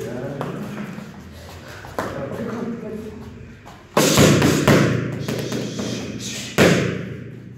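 Punches and hooks land on a focus mitt in boxing training, sharp thuds arriving irregularly, two of them much heavier slaps, with voices talking between strikes.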